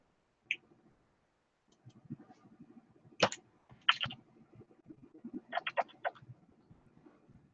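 Sparse keyboard clicks come in small bursts and single taps, close and fairly quiet, with short pauses between them.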